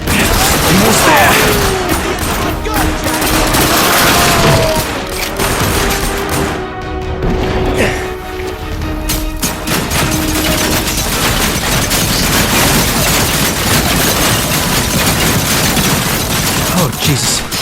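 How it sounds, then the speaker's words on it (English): Intense gunfire fills a firefight in the shooter game The Darkness II. Rapid shots and bursts crackle loud and almost without a break, with a brief lull near the middle. "Now there's twice as much shooting."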